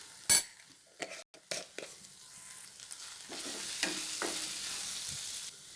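A spoon stirs curry in a pan after garam masala goes in, giving scattered scraping clinks over a faint, continuous sizzle at close range.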